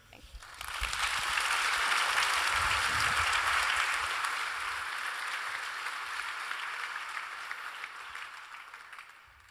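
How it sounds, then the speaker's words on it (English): A conference audience at a startup event in Europe claps in sustained applause that rises quickly and then slowly thins over several seconds. "Yeah, you can clap, it's okay."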